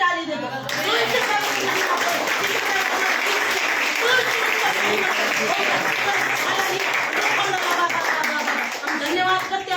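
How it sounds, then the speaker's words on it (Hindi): A church congregation at a Good Friday service claps loudly and steadily throughout, a dense, continuous wash of applause with some voices and a child's speech mixed in. "इसके लिए प्रभु को जोर से ताली दे दो"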